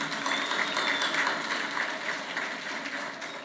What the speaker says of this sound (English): We can applaud him.